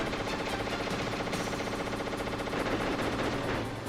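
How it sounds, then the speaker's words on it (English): Rapid, sustained minigun fire from an enemy in Metal Gear Solid, a dense loud mechanical rattle running the full length with no talk. "His minigun, though, too, has some exceptional damage, so be careful with that."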